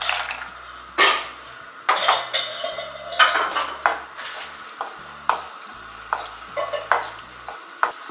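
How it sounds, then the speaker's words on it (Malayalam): Cashew nuts fry in ghee in a pan for vermicelli payasam. A soft sizzle runs under repeated spoon scrapes and sharp metallic clinks against the pan, close and irregular, with no voices. "ഇതിലേക്ക് നമുക്ക് അണ്ടിപ്പരിപ്പ് ഇട്ട് കൊടുക്കാം."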